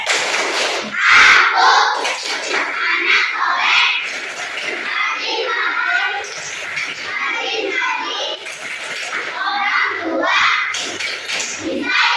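Group of children performing the tepuk anak soleh clapping chant in a classroom: lively young voices chanting together over rhythmic claps and taps, loud and close throughout.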